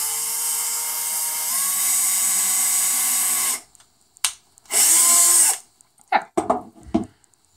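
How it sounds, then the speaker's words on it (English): Small rotary drill boring a hole through a dried flower resin jewelry piece, a long high whine followed by a second short burst, then light tapping and handling noises. "so I don't have to worry in this instance about my drill going all the way through"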